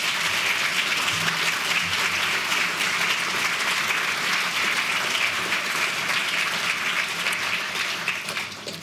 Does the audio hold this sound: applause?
yes